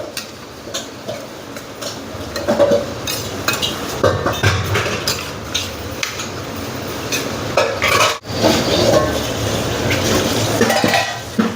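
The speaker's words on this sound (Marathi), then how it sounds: "चला आता चांगलं मिक्स करून घ्यायचं आहे आपल्याला." A spoon stirs wild mushroom curry in a pan just after water is added, with irregular scraping, clinking and sloshing close by, some strokes louder than others, and no talking.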